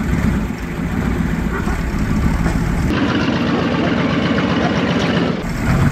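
An old 7.3 IDI diesel engine runs at a raised idle, a loud, close, continuous rough rumble with a constant clatter and no voice over it.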